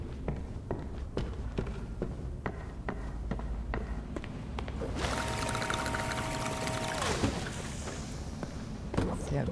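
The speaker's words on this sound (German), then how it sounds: "Wasser holen." Water being fetched in the Crime Scene Cleaner video game: a steady pouring and filling rush of water lasting a couple of seconds, clear and close, between soft footsteps and small knocks, quiet overall.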